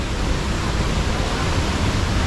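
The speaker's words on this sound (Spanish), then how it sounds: "Y miren las vistas que se logran apreciar de la cascada de acá." A waterfall at Posa El Callejonón in the hills of Chalatenango, El Salvador, roars in a steady, dense wash of falling water, loud and unbroken with no voices.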